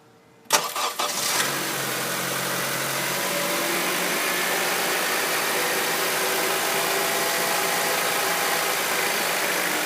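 A 2002 Honda CR-V engine cranks briefly, catches and fires up, then settles into a steady, fairly loud idle that holds for several seconds with no voices.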